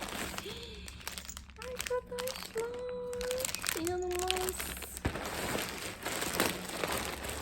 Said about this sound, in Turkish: şimdi paketi açalım birlikte